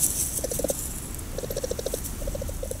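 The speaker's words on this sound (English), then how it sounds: "This is the sound that sables make." A sable gives short bursts of rapid, chattering pulses, spaced apart. The calls sound fairly close against quiet background noise, with no talk.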